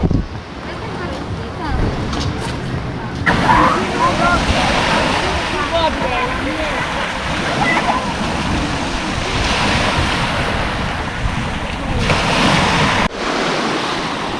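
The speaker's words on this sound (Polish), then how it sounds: "Jest mocna fala." On a beach with strong wind, heavy sea waves wash and break continuously, their roar mixed with gusty wind buffeting the microphone over the full length of the recording, with no talk.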